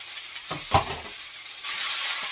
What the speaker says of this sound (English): And stir it around in that garlic and that ginger.